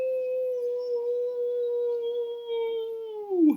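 A narrator's voice imitates a dog howling: one long sustained wavering tone that slides down at the end, close and alone.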